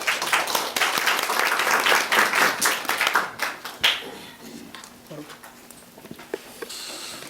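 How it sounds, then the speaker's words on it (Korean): Audience applause at a forum session on Jeju Island, welcoming a university professor as moderator; loud, dense clapping for about four seconds, then fading into scattered claps and faint room noise. "큰 박수로 환영해 주시기 바랍니다."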